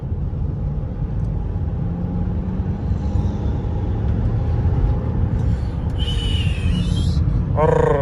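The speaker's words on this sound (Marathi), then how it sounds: "मग तुम्हाला मी अशी ओढून दाखवतो कशी ती गाडी कशी करते पिकअप धरते आपला" A car accelerating and picking up speed on a road, a steady low engine and road roar rising over several seconds, with brief honks and air-brake-like hiss near the end, no talk.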